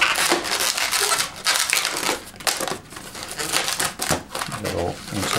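A latex balloon is folded and pinch-twisted into shape, giving loud, close rubbery squeaks and crinkly crunching in continuous bursts, with brief pauses between twists.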